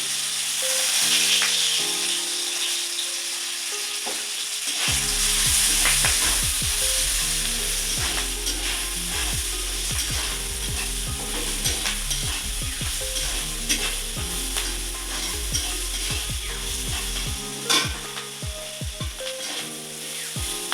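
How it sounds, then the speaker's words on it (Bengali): Onion and spices with turmeric sizzle loudly in a pan for mushroom curry, with steady frying and repeated scraping stirs, while tonal background music plays throughout. "মশলাটা যখন ভাজা হয়ে আসবে এই তো দেখো প্রায় ভাজা হয়ে এসছে"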